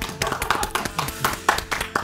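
A small group applauding after an interview about a music video, with brisk, uneven hand claps over about two seconds at moderate volume; no talk.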